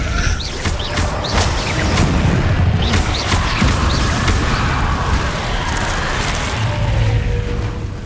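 Incendio fire spells cast again and again in the game Hogwarts Legacy, a loud, dense run of fiery bursts and booming impacts crowding over one another through an ongoing battle with no pauses.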